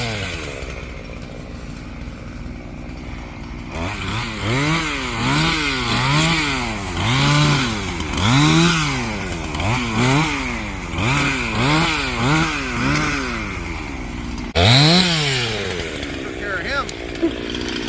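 Johnsrud chainsaw cutting outdoors on a farm during logging work, its engine idling and then repeatedly revving up and down in rising and falling whines, loud and close, with people talking over it.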